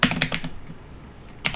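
Code being typed on a computer keyboard: a quick run of close key clicks, a pause of about a second, then one more keystroke.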